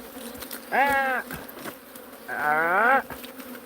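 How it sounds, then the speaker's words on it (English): Bees buzz during beehive comb removal, with two close, loud buzzing passes of roughly half a second each over quiet background. "Raining bees, everyone."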